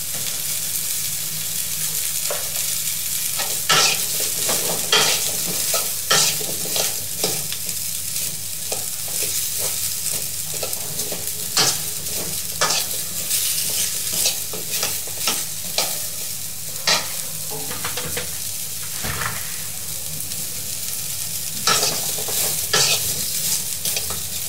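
Hard vegetables for noodles, sprinkled with salt, sizzle steadily in a hot pan while a spatula scrapes and clacks at a brisk, uneven rhythm.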